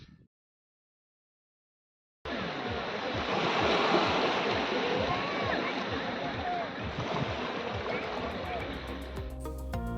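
Sea waves wash onto a concrete-edged beach at Kargil near Bakkhali, a steady loud roar of surf and wind that starts abruptly after a short silence and carries on unbroken.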